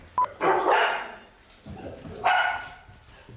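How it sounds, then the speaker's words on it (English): Dogs bark in a few sharp, separate bursts at close range, with a brief voice heard between them. "Dogs."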